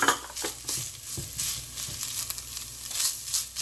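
Flaked smoked herring with onion and pepper sautéing in a pan makes a steady close sizzle, broken by soft scraping stirs and spoon mashing against the pan, with no talking.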